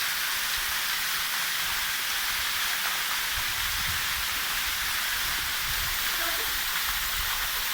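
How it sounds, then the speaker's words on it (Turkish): Waterfall at Incirli village in Ardanuç, Artvin, heard as a steady, full broadband rush of falling water that holds evenly throughout with no breaks, close and fairly loud, with no voices over it. "İncirli köyü şelalesi."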